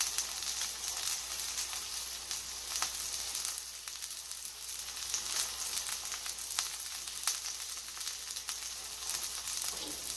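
Sliced garlic sizzles steadily in a hot pan on high heat, a continuous bright crackling hiss with small pops, moderately close and alone.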